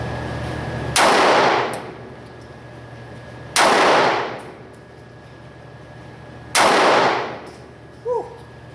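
Three sharp, loud 9mm pistol shots fired with Speer Gold Dot 124 grain +P rounds, evenly spaced a few seconds apart, each with a short ringing decay, in a quiet indoor range with no talking.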